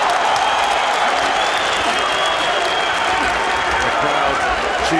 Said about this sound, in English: The crowd cheering him on.